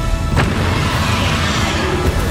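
A Confringo fire spell explodes in the Hogwarts Legacy video game, producing a loud, sustained rumbling blast of broadband noise with a brief sharper burst early on.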